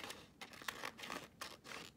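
Scissors snip through craft paper in several quick, faint cuts with a soft crinkle between them, close up and quiet, with no voices.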